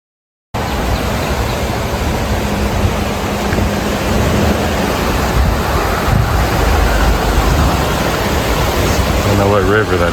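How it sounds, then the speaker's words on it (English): A river running through a small town, heard as a loud, steady broadband rush of flowing water with some wind buffeting on the microphone, continuous throughout without talk. "I don't know what river that is, but it sure is pretty"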